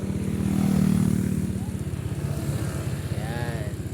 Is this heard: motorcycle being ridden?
yes